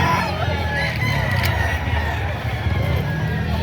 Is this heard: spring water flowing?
no